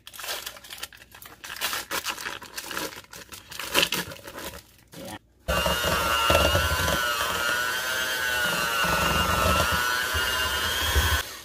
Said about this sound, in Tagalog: gagamit ako ng hand mixer